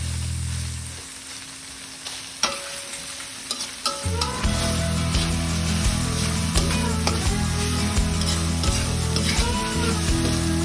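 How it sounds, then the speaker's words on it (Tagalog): Pork for dinuguan sautés in a hot pan, a steady loud sizzle with repeated stirring scrapes after a brief quieter start, no talk. "gisa-gisa lang natin ang ating pork"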